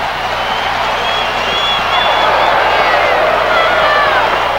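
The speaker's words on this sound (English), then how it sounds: "The crowd wants another touchdown" A college football stadium crowd at Alabama against Kentucky roars steadily throughout with whoops and shouts, a loud, dense, continuous cheer.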